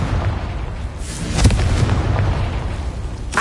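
Confringo fire spell blasting in Hogwarts Legacy, a heavy rumbling explosion with booming low impacts and a burst of crackle near the end, loud and close amid game action.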